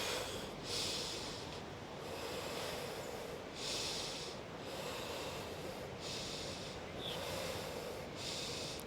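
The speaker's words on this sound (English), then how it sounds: "Find back your rhythmical breath" Slow rhythmic breathing during a yoga flow, long hissing inhales and exhales repeating steadily about every second and a half, close and fairly loud with a low rumble underneath.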